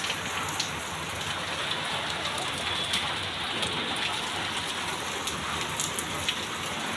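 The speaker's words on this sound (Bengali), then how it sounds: "এই যে বৃষ্টি" Rain pours steadily onto a rooftop, a dense, even hiss of drops with occasional brighter ticks of individual drops, constant and fairly loud throughout.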